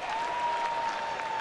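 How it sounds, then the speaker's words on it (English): Baseball stadium crowd cheering and clapping at a Cincinnati versus San Diego game, a steady distant roar of many voices and hands, with a thin sustained tone running underneath. "Oh, that's why they're cheering."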